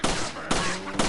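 Rapid gunfire in Resident Evil 4, three sharp close shots spaced evenly about half a second apart, each with a short ringing decay, no talking.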